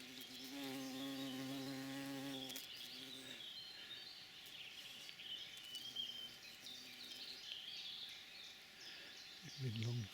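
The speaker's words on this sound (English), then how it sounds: "with a big bee coming in." Big bee buzzing near the last primrose flowers of spring outdoors, a steady insect drone running under ambient birdsong with a low humming tone at the start and near the end.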